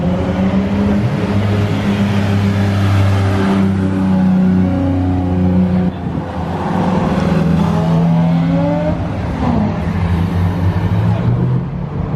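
Several cars rev and accelerate at a car event at Spa, with loud, close engine notes rising and falling across the clip and a short dip midway. A crowd murmurs faintly underneath.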